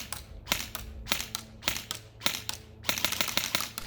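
A G&G ARP9 airsoft gun firing BBs on full auto from an 11.1 V LiPo battery at about 20 rounds per second, heard as several quick bursts of sharp rattling clicks separated by short pauses.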